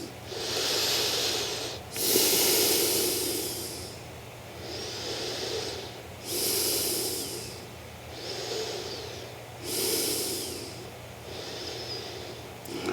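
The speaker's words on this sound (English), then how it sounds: "Breathing." Deep, slow breathing during a yoga stretch, with about six long, airy inhales and exhales rising and falling in a steady rhythm, close and alone over a low hum.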